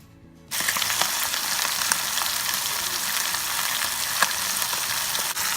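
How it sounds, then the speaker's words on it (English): Steady, loud sizzling of a whole chicken searing in hot fat in a Farberware pressure cooker fills the clip after a brief quiet start, with occasional scrapes and clicks. "So that's where we're starting, is by searing it on all sides."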